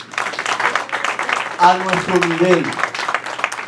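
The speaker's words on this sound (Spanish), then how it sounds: "dale un fuerte aplauso al Señor." A church congregation gives a loud round of applause to the Lord, dense continuous clapping mixed with a voice that rises and sings over it.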